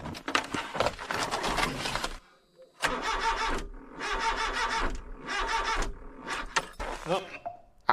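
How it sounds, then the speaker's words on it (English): A car cranks and struggles to start on a cold morning, with a weak battery suspected: repeated labored cranking bursts separated by brief pauses, fairly close and loud, with a short gap of near quiet in between. "Car doesn't want to start, and it sounds like it's the battery."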